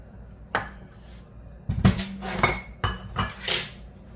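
Ceramic bowls and dishes clink and clatter on a kitchen counter while a riced cauliflower salmon bowl is assembled, in a handful of close, sharp knocks and rattles.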